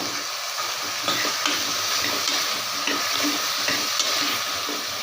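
Vegetables sautéing in a pan for white kurma, a loud dense continuous sizzle with occasional stirring clatter, close up and with no voices.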